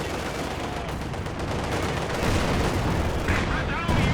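ZiS anti-tank guns firing in a real-time strategy video game match, a dense run of booming shots and battle rumble that grows louder toward the end, under a busy mix of gunfire.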